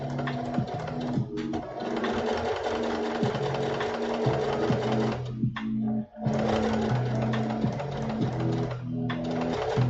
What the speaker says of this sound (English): I'm just sewing straight lines on these curves